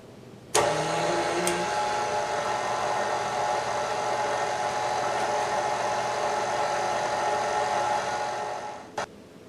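An electric mixer on its lowest setting kneads bread dough for water bread. A steady whirring motor hum switches on abruptly, runs evenly and close for about eight seconds, then winds down and stops.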